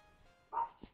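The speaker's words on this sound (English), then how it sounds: "And you might be able to hear my dogs upstairs." A single muffled dog bark comes from upstairs in a house, faint and distant, followed by a soft thump, over quiet game background sound.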